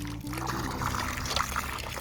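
Water gushing out of a newly installed hand pump, a steady close pour and splash that runs unbroken for a couple of seconds.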